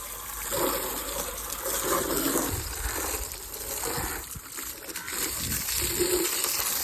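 Steady rushing spray of water, close and continuous, with gushing surges throughout and no voices.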